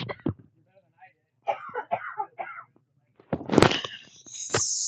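A person gives several sharp coughs and throat clears, close to the microphone, separated by short pauses, with a louder burst near the end.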